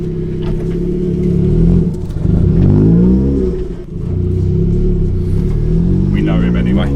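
A turbocharged Nissan Micra K11 engine, freshly fitted and smelling of fuel, runs with a loud, close, rumbling idle and swells into a revving rise around the middle before settling back. A voice speaks briefly near the end.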